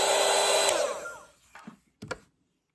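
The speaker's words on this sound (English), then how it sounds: "I also have right here my dryer. I like to use this to speed up the process between layers." A hand-held hair dryer used to dry layers of watercolor paint blows a steady close whoosh, then shuts off and dies away, followed by two brief clunks and silence.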